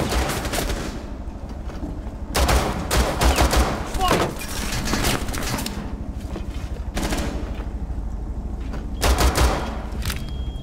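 Rapid bursts of automatic gunfire in Rainbow Six Siege, a hostage team deathmatch on the Border map, come in several loud clusters across the clip, with players talking briefly between shots.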